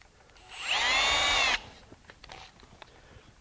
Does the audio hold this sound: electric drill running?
yes